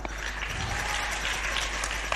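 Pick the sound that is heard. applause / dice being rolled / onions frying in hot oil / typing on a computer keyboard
applause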